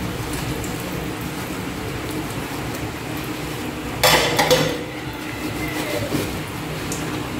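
Dishes being washed at home: a short burst of clattering plates and utensils, close and fairly loud, rises out of a steady low background hiss and fades after about half a second.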